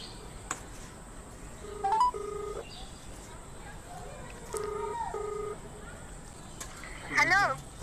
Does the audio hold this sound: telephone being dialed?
yes